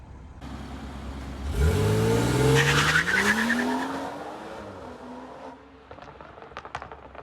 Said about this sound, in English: I spun all 4 wheels